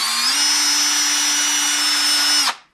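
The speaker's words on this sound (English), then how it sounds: "I just like to use one of these little 3-inch wire wheels on my drill" A power drill spins a wire wheel at a steady high whine for over two seconds, then spins down and stops abruptly.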